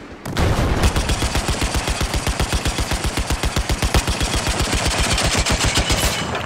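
Loud, close automatic gunfire from a weapon in the video game Battlefield 4 rattles off in one unbroken burst of rapid, evenly spaced shots for about six seconds, with no talking.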